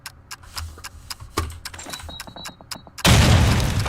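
A grenade goes off with a loud, sudden explosion in a competitive shooter match. It follows a run of rapid, sharp gunshots and footsteps, and the blast is close and sustained.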